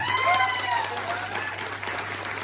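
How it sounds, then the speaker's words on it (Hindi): An audience breaks into applause for Mr. Raxman, a short burst of clapping mixed with crowd noise and a faint tonal sound near the start. "एक बार मिस्टर रैक्समैन के लिए जोरदार तालियां"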